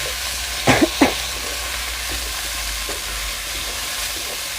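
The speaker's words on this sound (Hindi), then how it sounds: "धनिया के साथ में हम अच्छे से इसको भून देंगे।" Onion, green chili and coriander leaves fry in a pan with a steady low sizzle. A few sharp scrapes of stirring come near the start, then the hiss carries on alone.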